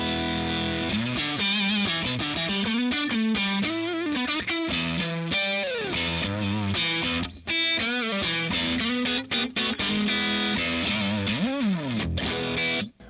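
Ibanez electric guitar fitted with DiMarzio hum-canceling single-coil pickups, played loud and distorted through effects: continuous chords and lead lines with bends and slides, up close and without talk.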